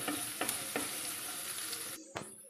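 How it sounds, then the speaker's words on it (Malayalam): Mushrooms sautéing in a pan with salt give a steady close sizzle. A spatula scrapes and stirs several times, and the sizzle cuts out briefly near the end. "ഇത് നന്നായി ഒന്ന് വഴറ്റി കൊടുക്കണം."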